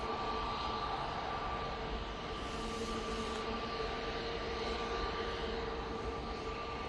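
EasyJet airliner at Manchester Airport, a steady broadband jet roar with faint engine tones, continuous and moderately distant, swelling slightly midway with no voices.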